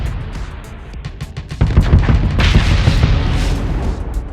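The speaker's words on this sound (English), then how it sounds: "When a ship is disabled, the explosion deals damage to all nearby ships except for fighters." A disabled ship blows up in Starsector with a sequence of heavy booms: a few sharp thuds build into a loud, roaring explosion that swells and sustains near the end, close and forceful.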